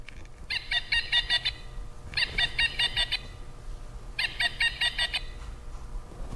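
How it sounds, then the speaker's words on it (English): A pileated woodpecker gives three loud, rapid series of ringing, laughing call notes, each burst lasting about a second with short pauses between, carrying clearly over a quiet outdoor background. "Pileated woodpeckers, not so much, but you can listen out for their call."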